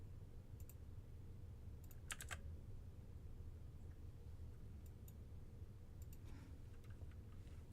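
Quiet typing on a computer keyboard while a virtual assistant retypes blog post text for WordPress: scattered clusters of soft key clicks with pauses, close by over a low background hum.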